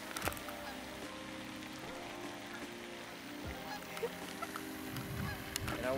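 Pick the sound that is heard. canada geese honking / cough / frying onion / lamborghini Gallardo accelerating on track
canada geese honking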